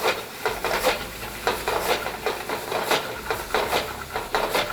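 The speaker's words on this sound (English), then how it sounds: "Now we're just going to have to mix everything up." Rice being stirred together with homemade tomato sauce, likely with a wooden spoon, making repeated rhythmic scraping and soft sizzling strokes, close and fairly loud, with no talking.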